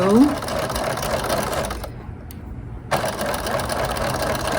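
A sewing machine runs close up, back stitching along a dress hem with a rapid mechanical whir, stopping for about a second midway before resuming.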